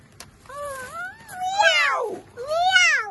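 A voice imitates a cat, giving three drawn-out, wavering meows with short breaks between them, close and fairly loud.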